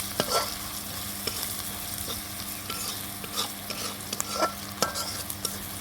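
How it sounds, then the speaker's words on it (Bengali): Onion frying in a pan with turmeric and salt, a close continuous sizzle broken by repeated scrapes and taps of a spatula stirring, no voices. "আমি পেঁয়াজটাকে আর একটু ভেজে নেব হলুদ লবণ দিয়ে"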